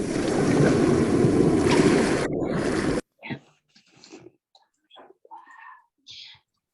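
Ocean surf plays in a classroom lesson about sea mammals, a loud, continuous wash of waves for about three seconds that cuts off abruptly, followed by quiet, scattered voices speaking.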